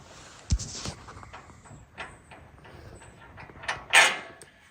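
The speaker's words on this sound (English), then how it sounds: "So we're gonna take off this nut and bolt here." A nut and bolt are worked off a metal bridge truss top rail, producing scattered clanks, creaks and metallic rattles at irregular intervals, close and moderately loud, with no talking.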